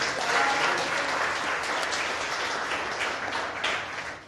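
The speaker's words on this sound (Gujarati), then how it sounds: "મોદી સાહેબને પણ એકવાર આપણે તાળી બતાવવા જોઈએ" An audience at a library talk in Navsari breaks into sustained, fairly loud clapping from many hands that fades slightly toward the end.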